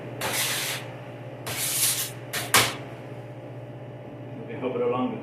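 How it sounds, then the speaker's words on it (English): Cooking spray hissing onto a bread pan in three close, short bursts, the last one sharp and brief, over a steady low kitchen hum. "Now you're going to lightly spray your pan."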